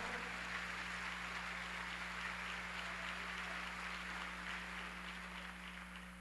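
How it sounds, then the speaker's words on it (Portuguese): Church congregation applauding during a Sunday worship service, a steady wash of many hands clapping that holds at an even, moderate level before easing off slightly at the end, with a low hum underneath. "Vamos aplaudir ao Senhor."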